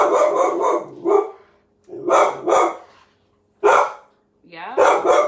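A pet dog in guard mode barks indoors in short loud bursts, mixed with people talking during a casual recorded chat.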